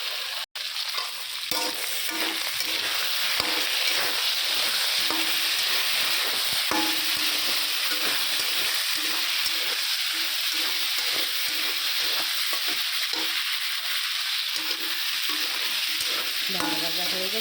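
Papaya curry with shrimp, chickpeas, tomato and ginger-cumin-chilli paste fries loudly in a pan, a dense continuous sizzle broken by repeated scraping stirs, close and without talk.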